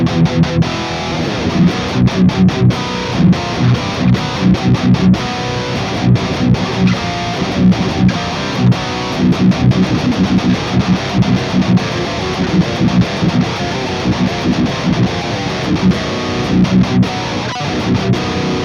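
Heavily distorted electric guitar chugs through a Kemper profile of a 5153 Stealth high-gain amp with Groove Tubes 6L6 tubes, loud and dense with rhythmic palm-muted riffing, steady throughout.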